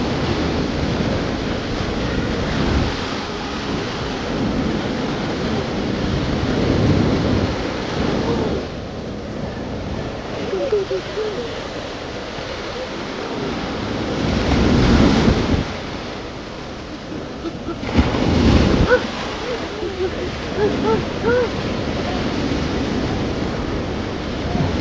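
Sea waves washing ashore at Azhikode Munakkal beach, a continuous loud roar of surf with wind buffeting, swelling into stronger crashes now and then.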